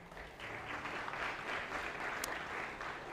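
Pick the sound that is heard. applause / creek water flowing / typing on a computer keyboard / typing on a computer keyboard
applause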